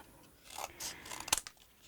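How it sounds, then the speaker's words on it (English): Scissors snip through paper around a Halloween coffin candy-station craft, a few soft cuts building to one sharp, close snip near the end, with quiet pauses between. "Now I'm going to start off with my scissors, and I am going to trim around."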